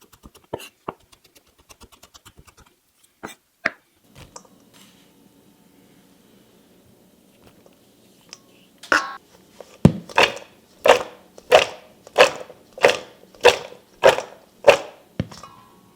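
Garlic chopped with a knife on a board: scattered light taps at first, then a pause with faint low hum, followed by a run of about ten loud, evenly spaced chops.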